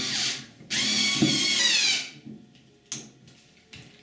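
A power tool drives a securing screw into a door hinge plate on a Gardinia Coldseal door, two close whirring bursts, the second longer and strained, followed by short clicks and a brief whir.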